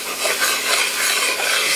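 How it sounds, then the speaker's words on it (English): Flour being stirred quickly into a gumbo roux in a pot gives a continuous close scraping, swishing texture with no pauses. "And then we add our flour. You have to stir it real fast because it's going to go real fast."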